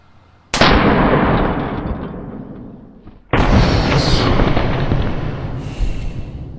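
An air pressure blaster fired at a dummy: a sudden sharp blast followed by a long roaring hiss that slowly fades, then a second blast with another sustained rush of air, loud and close.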